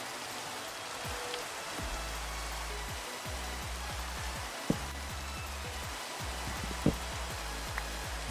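Steady rain falling in the Minecraft video game, a continuous hiss of drops with soft low rumble and occasional sharper pattering ticks, moderately quiet and unbroken throughout with no talking.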